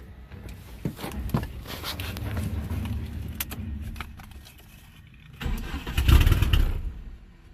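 A one-cylinder engine being cranked and struggling to start, with a close, uneven mechanical churning that fades, pauses briefly, then comes back louder in a second attempt.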